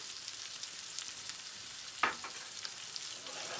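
Sprigs of fresh green coriander fry and are stirred in with chard in a pan, giving a faint, steady sizzle broken by one short scraping clink of stirring.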